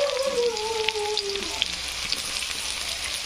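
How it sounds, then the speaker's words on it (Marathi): Chopped onion sizzling in hot oil with garlic in a pan, a steady close frying crackle with a few sharp pops, briefly joined at the start by a faint voice-like tone. "छानपैकी असा कांदा भाजू द्यायचा।"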